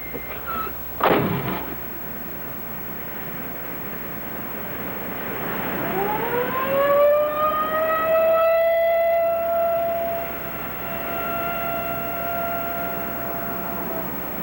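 An ambulance siren wails up into a loud, steady tone that holds for several seconds and slowly fades, following a sharp bang near the start, in an old crime drama about a bank robbery.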